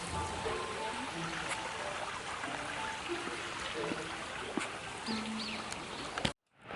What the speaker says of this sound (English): right now we're at one of the waterfalls